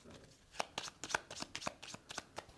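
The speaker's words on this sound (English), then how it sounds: "first start by giving the deck a shuffle" A Mysticana card deck is shuffled at a table during setup for a solo game of Nine Perils, giving a run of crisp riffling snaps in a quick irregular rhythm, close and fairly quiet.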